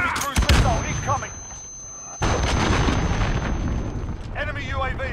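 Enemy cruise missile strike in Modern Warfare, a booming impact with a deep rumble at the start, then a sustained explosive roar after a brief lull, with a voice heard over the end.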